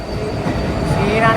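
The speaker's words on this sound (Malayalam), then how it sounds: "ട്രെയിൻ വന്നു." Passenger train pulling into a crowded station, a loud close rumble of wheels and carriages with faint squealing from the rails toward the end, busy platform noise underneath.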